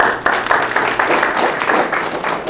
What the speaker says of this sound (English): So a round of applause for Tony and Janet.